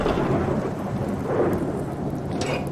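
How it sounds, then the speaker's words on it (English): Rain and low, rolling thunder in the survival video game Subsistence, a steady broadband downpour with a deep rumble swelling through it and no voices. "it is raining right now."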